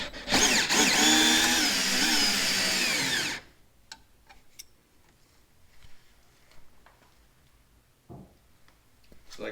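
A power drill runs loud and steady for about three seconds, undoing a bolt on the skid of a Polaris Matryx Indy VR1 snowmobile, then stops, leaving faint scattered clicks and small handling noises.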